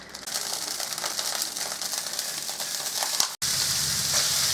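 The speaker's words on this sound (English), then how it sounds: "we are going to cook our breakfast sausage" About a pound of breakfast sausage cooks in a pan. A dense, close, crackling sizzle runs steadily, briefly cutting out near the end before resuming.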